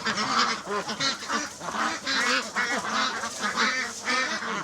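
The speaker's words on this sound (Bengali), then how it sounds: "সাদা এই হাঁসগুলো বেইজিং বা পিকিং জাতের হাঁস নামে পরিচিত।" White Peking ducks, a foreign breed raised on a raised platform without a pond, quack in a dense, continuous chorus on a village farm, their overlapping calls loud and close with no talking.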